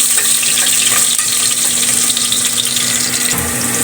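Garlic frying in a hot pan for pork humba with pata: loud, close, continuous crackling sizzle that holds steady throughout with no voices.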